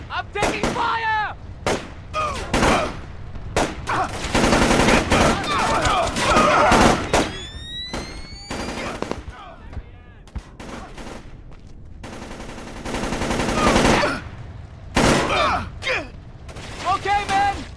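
Gunfire shootout from the stealth video game Splinter Cell: repeated sharp shots and bursts crack through a busy mix, with shouted game voices over the battle.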